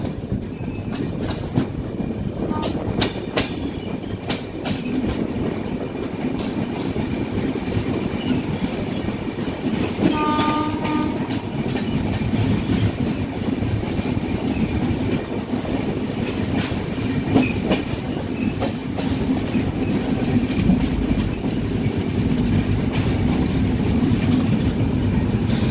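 A train passes through Hatkanangale railway station with a loud, continuous rumble and rhythmic clickety-clack of wheels over rail joints, steady and close for the whole stretch.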